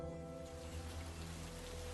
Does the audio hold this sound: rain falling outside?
yes